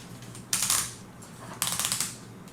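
Loud clicking ratchet joints on a Titan Power King of Beasts transforming figure as its heavy parts are moved, two short bursts of rapid clicks close up.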